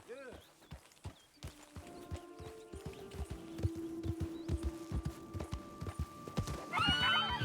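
A horse in the Red Dead Redemption 2 video game clip-clops along in a steady hoof rhythm, with a whinny at the start and another loud neigh near the end, and a voice speaks over it.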